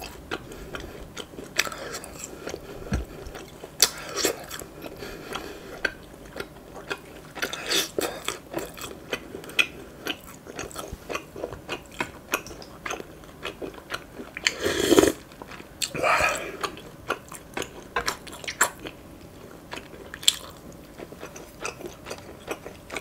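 Close, wet chewing and biting of spicy chicken feet in a Thai-style spicy soup, with soft sticky crunches and clicks repeating irregularly throughout and a couple of louder bites.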